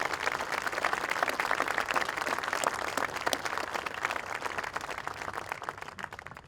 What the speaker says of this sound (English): Please give them another fine round of applause for their time and effort in the field